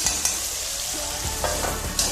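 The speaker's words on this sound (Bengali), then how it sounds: "আলুগুলো প্রায় ভাজতে শুরু করলাম।" Potatoes frying in a pan with panch phoron spices, a steady close sizzle broken by a few soft stirring scrapes.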